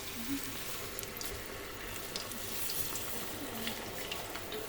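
Drumstick leaf pakoda batter, mixed with chillies, ginger, turmeric and salt, frying in plenty of hot oil: a faint, steady sizzle and crackle with no talk.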